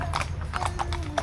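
Horses walking on a trail at a Baguio riding area, hooves clip-clopping in a steady rhythm of clear, close knocks over a low rumble of outdoor background noise.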